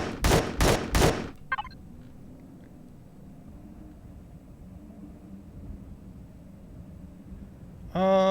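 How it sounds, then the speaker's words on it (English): Weapon fire in the sci-fi survival game Empyrion Galactic Survival opens with three loud, sharp shots in quick succession and a short trailing burst, then fades into a low steady hum, with another tonal sound starting at the end. "What happens if I shoot it?"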